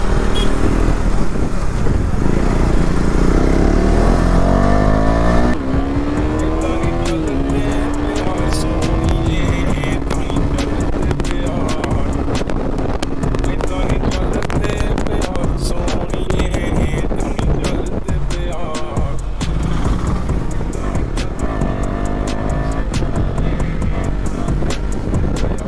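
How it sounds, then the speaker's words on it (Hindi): Motorcycle engine running continuously through heavy traffic, loud and close with wind buffeting, pitch rising and falling as it speeds up and slows, with talking over it in places. "ओहो ट्रैफिक बहुत आज"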